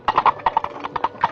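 Coconut shells knocked together as a Foley stand-in for horse hooves, a quick, crisp clip-clop trotting rhythm of about a dozen sharp hollow knocks, close and alone.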